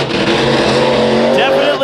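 A monster truck at a fair freestyle show nears a jump, its engine revving loud and steady with rising and falling pitch, while a commentator talks over the roar.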